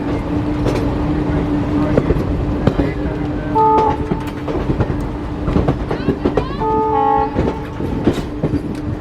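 Somnath intercity express rolling along rails toward Junagadh and Veraval, with loud continuous wheel rumble, rhythmic clatter and several sharp horn toots rising over the din, heard from close aboard.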